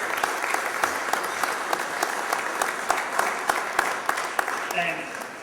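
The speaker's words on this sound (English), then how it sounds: "The wives of the firemen of the Oakmont Fire Company need a round of applause." A crowd applauds at a fire company gathering, steady sustained clapping from many hands with a few sharper individual claps standing out, moderately loud and continuous.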